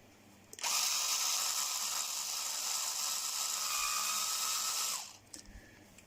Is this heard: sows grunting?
no